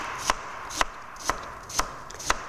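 A knife chopping a vegetable on a cutting board, five evenly spaced crisp thunks about half a second apart, close and clear over a quiet background.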